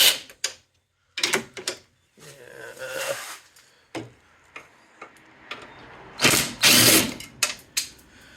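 A ratchet loosening 10mm bolts from a Porsche 944 pop-up headlight: bursts of rapid clicking and metallic clatter come in short, uneven runs separated by pauses, close-up and fairly quiet.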